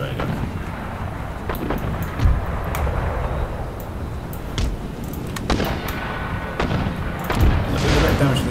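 Mortar fire in Empire: Total War with an Ottoman force: scattered thumping booms and cracks at irregular intervals over a windy, rumbling battlefield bed, with someone talking over the action.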